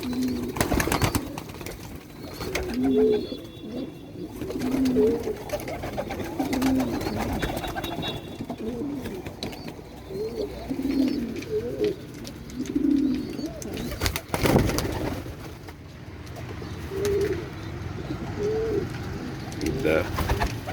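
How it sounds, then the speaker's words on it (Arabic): Male meat-breed pigeons cooing close by, repeated low throaty coos in an irregular rhythm, with rustling, handling noises and occasional talk mixed in. "وده حمام لاحم ذكر"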